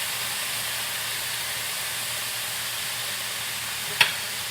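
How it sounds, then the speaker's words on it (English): Chicken with peaches sizzles in a skillet in a steady, even frying hiss that continues alone, with one sharp click or tap near the end. "I feel like I have to talk over the sizzling that's going on here."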